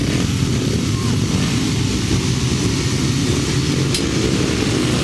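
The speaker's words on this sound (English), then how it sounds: "Revving up then for the upright final." Grasstrack racing motorcycles revving together at the start line of the upright final, a dense continuous engine roar at an outdoor meeting that holds steady throughout at moderate loudness.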